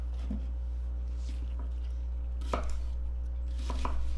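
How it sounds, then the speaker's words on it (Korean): A knife slicing onion thickly on a cutting board for kimchi stew, a few sparse crisp cuts over a steady low hum, close and fairly quiet, no talking. "양파 김치찌개에 들어가는 양파는 살짝 도톰하게 썰어 주시는 게 좋아요"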